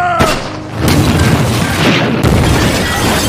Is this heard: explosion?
yes